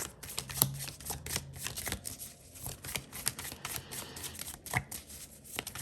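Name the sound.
drawing and shuffling tarot cards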